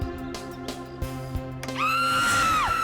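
A woman's scream in a Hindi crime TV drama: a loud, sustained, high-pitched shriek that rises sharply about halfway through and holds for about a second, over a steady musical background.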